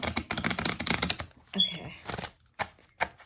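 A deck of cards riffles in a quick, crackling flutter, followed by a few soft taps and shuffling sounds close by.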